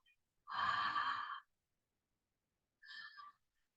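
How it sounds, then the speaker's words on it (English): Ujjayi breathing done with the mouth open, making a soft breathy "ha" on the breath: one long, fairly even rush of air, then a quiet pause and a shorter, fainter second breath, close and alone. "You can try it once with your mouth open, making a ha sound as you breathe in and out."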